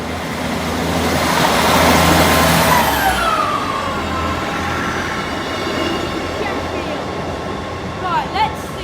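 A train rumbles past at close range at the Lincoln High Street level crossing, its roar fading as it passes, with a descending engine whine and distant voices near the end.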